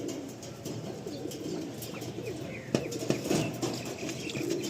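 Abluk pigeons in a loft coo softly and repeatedly at close range, with a few sharp knocks and shuffles among them and no talking.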